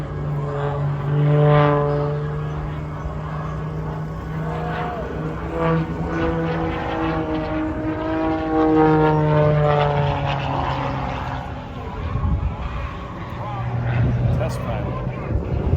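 A propeller airplane performs at an air show, its droning engine rising and shifting in pitch as it passes, with people talking nearby over the steady roar.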